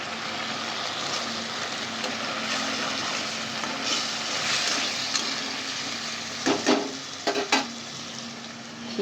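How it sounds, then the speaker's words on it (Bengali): Fish fries in a pan for lunch, a steady close sizzle running throughout with a few brief clinks and scrapes of utensils near the end. "এইদিকে দুপুরে লাঞ্চের মাছ হচ্ছে, মাছ বসিয়ে দিয়েছি"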